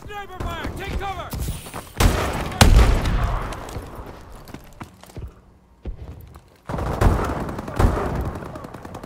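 Video game sniper fire rings out in sharp, loud cracks, spaced irregularly with a few heavier thumps and a quieter gap in between.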